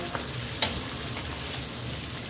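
Garlic and ginger paste fries in a pan for aloo palak, giving a steady soft sizzle with one small pop of spatter. No one speaks.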